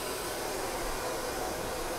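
A cordless hair dryer blows steadily during a salon blow dry of someone's hair, giving a continuous, even rush of air that stays fairly quiet throughout, with no talk.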